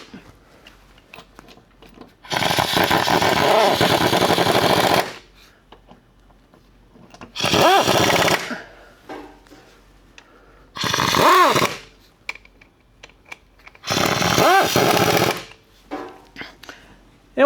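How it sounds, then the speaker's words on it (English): An impact gun, turned down in power, runs home the transmission mount bolts on a 2017 Cadillac CT6 in four loud, close bursts of rattling hammering, with quiet gaps of shop noise between them. "So we're just gonna dial down the gun a little bit so we don't over tighten this."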